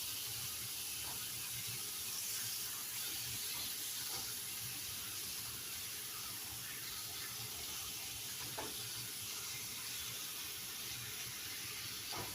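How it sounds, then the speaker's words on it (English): Half a pound of hamburger browning in a pan gives a steady, hissing sizzle, broad and even throughout with faint occasional pops and no talk. "I got a half a pound of hamburger here. And we're going to brown this up."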